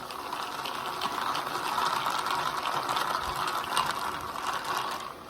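A strawberry milk boba drink with hot tapioca bubbles is stirred, giving a steady churning, sloshing liquid sound with light rattling, close and continuous without speech.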